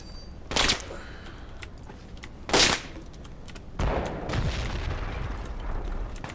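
A grenade blast in an online shooter: two sharp, loud booms a couple of seconds apart, followed by a longer rumbling burst and lingering noise, with no talk.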